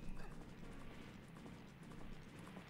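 Hooves of the in-game horse Epona clip-clop in a steady galloping rhythm in Zelda: Majora's Mask, close and continuous against a busy game soundscape, with faint voice-like sound in the mix.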